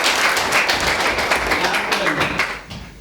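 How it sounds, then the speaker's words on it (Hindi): An audience at a Jal Jeevan Mission training session claps loudly, a dense burst of hand claps that gradually thins out toward the end, with voices mixed in. "तो इनके लिए दोबारा तालियां।"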